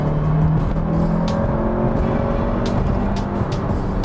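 Audi S1 Quattro with a 231 hp engine and stock exhaust, heard from inside as a steady loud engine drone under acceleration, with road rumble and a few brief gear-shift blips.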